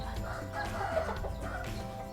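Young Thai farm roosters cluck and crow with repeated calls against a busy, noisy outdoor background, fairly close and steady throughout.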